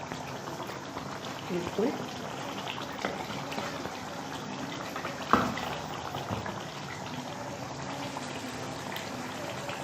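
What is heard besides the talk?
khoya korma simmering on dum in pot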